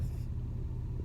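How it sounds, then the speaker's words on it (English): An old pickup truck's engine runs while driving, a steady low rumble that stays close and fairly quiet throughout, with no other sounds on top. "that is the truck running. I'm driving my grandma's truck."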